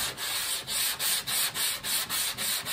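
Rhythmic hand sanding on painted body trim of a 1965 Dodge Coronet, steady back-and-forth rubbing strokes at about three per second, close and soft with no talking.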